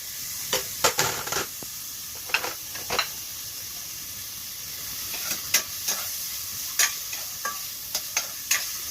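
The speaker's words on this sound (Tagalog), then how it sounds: "Ito yung ginisa natin sa kunting mantika lamang. Ito ang sibuyas." Onion sautés in a little oil for a pork rib stew, a soft background sizzle broken by sharp, irregular scrapes and clicks of stirring.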